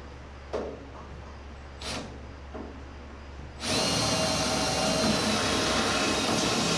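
A power drill bores a hole in the floor of a 1929 roadster pickup bed. A few faint knocks come first, then the drill starts suddenly and runs loud and steady to the end.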